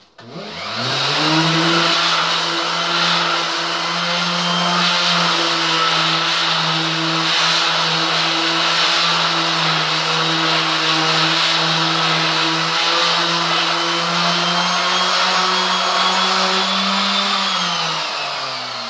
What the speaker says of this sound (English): So I want it nice and fresh all over, nicely sanded.